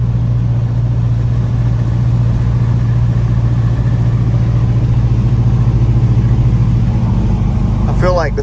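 A 1979 square-body truck with a carbureted big-block engine cruises along, its low, steady drone close and continuous throughout, with a short burst of voice near the end.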